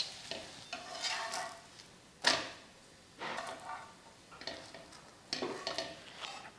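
A crispy instant adai dosa made from rice is lifted, flipped by hand and handled in a pan, giving faint, scattered crackly scrapes and rustles in short bursts over quiet sizzling.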